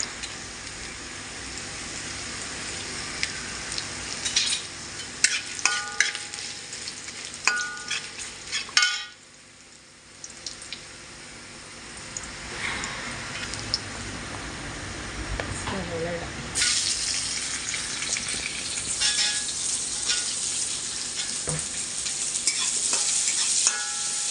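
Green chillies being stir-fried in a pan, with a close hissing sizzle under repeated scraping and stirring strokes, the frying noise swelling louder in the second half.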